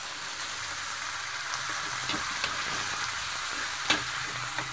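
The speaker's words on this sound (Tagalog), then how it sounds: "Igisa natin ng maayos guys yung ating karne para hindi malangsa." Pork frying with garlic and onion in a hot pan gives a steady, close sizzle, with scattered pops and a few stirring clanks.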